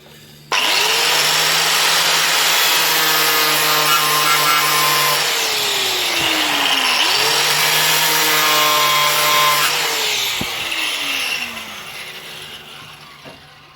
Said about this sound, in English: I shall grind a bit of that nut off so I can weld on another nut and hopefully get it out